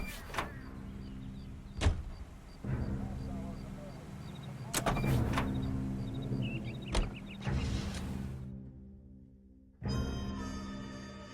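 Car in the video game L.A. Noire, with a door thunk and a steady engine rumble under game sounds and effects, several sharp knocks, a brief drop to quiet, then a harsh buzzy burst near the end.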